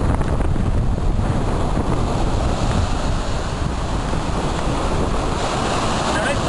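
Surf breaks continuously on a beach in a steady wash of rushing water, with wind buffeting the microphone throughout.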